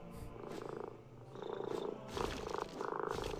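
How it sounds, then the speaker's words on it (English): A cat purrs close by in a room, a loud rhythmic rumbling purr in repeated pulses, each in-and-out breath giving a slightly different tone, with no talk over it. "It's a cat."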